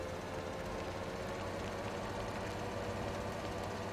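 Tractor engine in a farming simulator game droning at a steady, constant level throughout, with a low continuous rumble and no talk.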